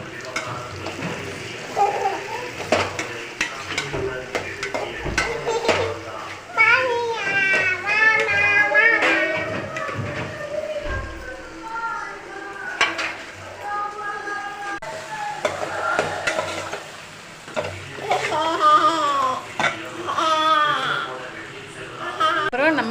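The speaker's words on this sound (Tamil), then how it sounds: "அந்த எண்ணெய் வெண்டைக்காவை போட்டு நல்லா வதக்கணும்" Okra sautéing in oil in a pan for a tamarind curry sizzles and crackles steadily in the background as someone talks over it throughout, with occasional stirring noises close by.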